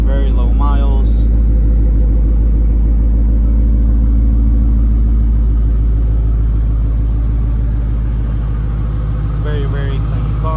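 Low, steady rumble of a 2016 Ford Mustang GT with a Flowmaster dual exhaust, idling loud and close throughout, with a person talking over the engine at the start and near the end.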